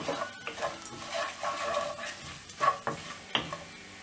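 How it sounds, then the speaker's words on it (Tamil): Vadagam fries in oil in a pan for a spinach kadayal, giving a soft continuous sizzle with occasional spatula stirs and scrapes close by, fairly quiet, with no talking. "இந்த வடகம் வந்து நல்லா எண்ணெயில் பொரியணும்"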